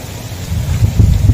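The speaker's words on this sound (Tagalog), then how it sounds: "Yun, ang kulog." Low rolling thunder rumbles during rain, a deep swelling growl that grows louder toward the end over a steady wash of rainfall outdoors.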